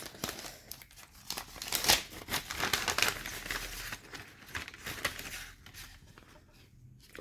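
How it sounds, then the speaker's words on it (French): A paper advent calendar pouch being opened carefully: soft, close crinkling and rustling of paper in irregular bursts over several seconds, fairly quiet, with no talking. "je vais ouvrir avec vous la pochette 0"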